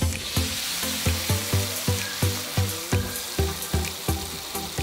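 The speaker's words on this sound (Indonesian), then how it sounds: "selanjutnya kita tumis bumbu yang sudah saya ulek kasar sebelumnya" Coarsely pounded spice paste sizzles steadily in a hot pan, and a spoon scrapes and stirs it in a regular rhythm over the continuous frying hiss. No one speaks.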